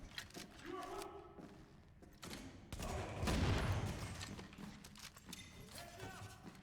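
Gunfire in the video game The Division, a fairly faint, busy spread of rapid shots and thuds that swells in the middle, with voices heard in the background.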